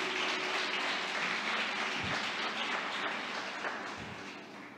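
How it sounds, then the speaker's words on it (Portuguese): A church congregation claps in praise during a sermon, a broad continuous patter of many hands at moderate level, tapering off gently over the last second. "aplauda Jesus."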